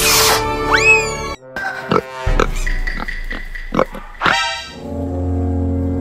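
A pig grunts and oinks in several short bursts, close and fairly loud, with other brief farmyard noises in between.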